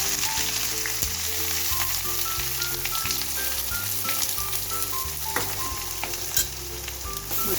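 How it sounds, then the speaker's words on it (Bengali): Onions fry in mustard oil with bay leaves and whole spices, giving a steady, close sizzle with light crackling throughout. "পেঁয়াজগুলো ভালো করে লাল করে ভেজে নেব"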